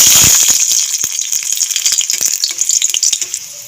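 Garlic cloves fry in hot oil in a kadai, a close, bright sizzle broken by rapid crackling pops that come in quick irregular bursts and gradually ease, with no voices.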